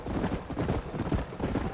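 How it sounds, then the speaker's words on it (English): A herd of wild horses gallops in a Red Dead Redemption game, a dense, steady drumming of hooves close by with wind noise over it and no talk. "So there's a herd of horses there."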